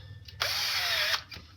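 A 12-volt cordless impact gun fires one close, sharp, rattling burst of under a second while tightening a bolt on a Dodge Dakota 3.7 water pump, with brief tool noise on either side.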